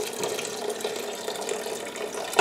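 Cider vinegar being poured for bread and butter pickles: a steady, close liquid pour with a brighter splash right at the end, and no talking.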